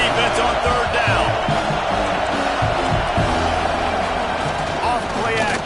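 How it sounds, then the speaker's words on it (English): Loud, dense roar of a football stadium crowd cheering for the defense on third down at a Michigan versus Purdue game, sustained and building throughout, with an announcer talking over it. "Decibels rising as the crowd gets behind this defense on 3rd down."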